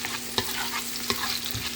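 Steak, shrimp and tomatoes sauté over high heat, a brisk sizzle with sharp scraping stirs of the utensil in the pan, close and loud, no voices.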